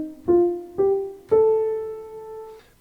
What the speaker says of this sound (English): So this is what the Air Piano sounds like on its own.